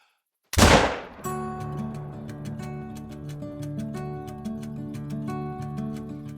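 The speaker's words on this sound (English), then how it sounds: "Another perfectly placed shot ensures a quick kill" A single sharp rifle shot in the hunting game theHunter bursts loudly after a brief silence, then a sustained tonal musical drone with rhythmic ticks carries on underneath.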